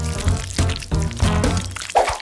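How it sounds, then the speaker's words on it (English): Jelly and honey poured into a bottle give a series of close, irregular glugging and dripping pulses with short pauses between them. "Pour it into the bottle."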